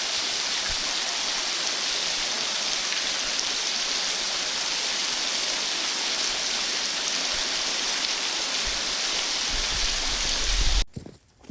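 A waterfall roars in a snowy outdoor setting on a hike, loud, dense and continuous close by, ending with a brief scrape and handling noise just before the end.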